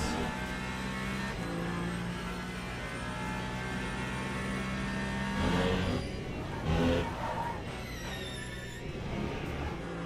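A race car engine in the Le Mans Ultimate racing game drones steadily at high revs in fifth gear, with a couple of brief surges and no pauses.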